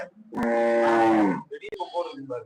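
A cow at a cattle market gives one loud, drawn-out moo lasting about a second, followed by people talking close by amid market noise.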